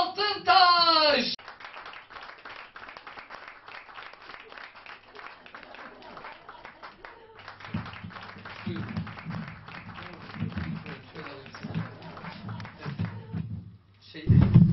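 Studio audience applause and clapping greet a guest walking onto a Turkish TV talk show, a steady crowd patter that starts under a host's voice, runs for several seconds, then swells again near the end.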